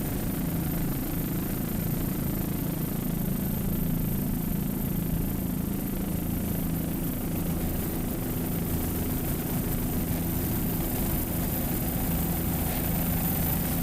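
A powerboat race off Deerfield Beach, with a 30-foot AMT running twin 2.5 Mercury outboards and a 42-foot Fountain with 420 horsepower Yanmar diesels, heard as a steady, loud low engine drone throughout, with no speech.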